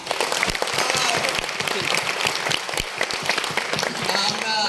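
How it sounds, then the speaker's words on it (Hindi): Sustained applause from a conference audience in Abu Dhabi, a dense wash of many hands clapping steadily throughout, with faint voices mixed in. "तो आप सभी के लिए भी एक जोरदार तालियां"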